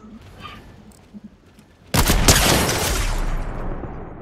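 Sniper rifle fire in Fortnite bursts in loudly after a quiet stretch of faint game sounds, a sharp crack followed by sustained echoing rumble and overlapping shots that trail off slowly.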